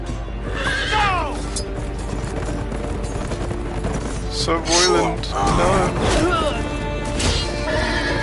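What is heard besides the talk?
horse neighing in Game of Thrones video game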